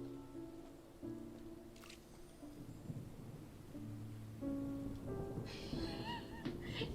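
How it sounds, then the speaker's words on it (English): Rain falls with thunder rumbling in the video game Genshin Impact, a steady wash of rainfall under soft musical tones, with a brief crack of thunder near the middle and a louder stretch toward the end. "Oh, huh? It's raining!"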